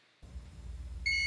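Short electronic beeps from an HM II heart pump controller sounding an advisory alarm, a bright tonal beep arriving near the end over a low background hum.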